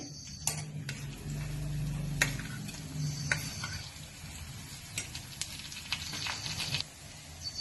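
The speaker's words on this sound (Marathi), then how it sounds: "आता आपल्याला हा परतून घ्यायचा आहे" Grated sweet potato sautéed in a pan with dry fruits for kheer, soft sizzling with scattered light ticks and scrapes of a stirring spoon, close and fairly quiet.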